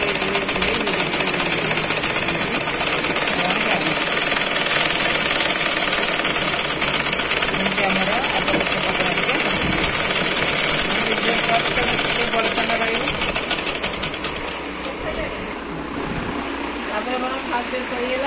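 A sewing machine stitches a sequined fabric blouse, its steady mechanical whirring running close and continuous throughout and easing slightly near the end, with a voice speaking over it.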